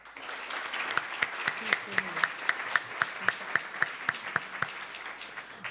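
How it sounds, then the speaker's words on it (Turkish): An audience at a school Teachers' Day ceremony applauds the teachers. The applause settles into loud, rhythmic unison claps at a steady beat, with murmuring voices underneath. "Est-ce qu'on peut applaudir tous les professeurs et tous les amis qui ont participé à la préparation de cette cérémonie, s'il vous plaît?"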